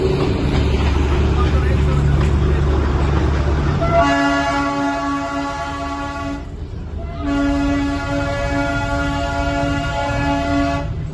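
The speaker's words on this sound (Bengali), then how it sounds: "toy train" The Darjeeling toy train rumbles along, then its horn sounds two long, loud, sustained blasts with a short break between them, with people talking faintly underneath.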